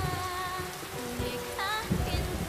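Steady rain gives a soft, even, hissing patter, fairly faint, with soft melodic tones drifting over it.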